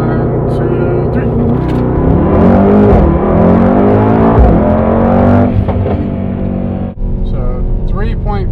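A Mercedes-AMG GT 63S launches from 0 to 60 in sport mode, its engine roaring loud and close and climbing in pitch through the gears. A voice speaks over the engine noise.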